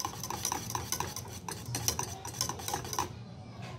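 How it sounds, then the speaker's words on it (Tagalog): A whisk or spoon stirs warm pastry cream for a sans rival cake in a pot until smooth, giving steady, rhythmic scraping and light clinks against the metal, close and continuous with no talking. "Haluin nyo lang na haluin hanggang mag-smooth na siya."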